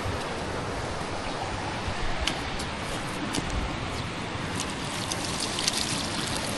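Water flows from a garden hose onto plants outdoors, a faint, steady hiss and splatter with a few small crackles and no talk.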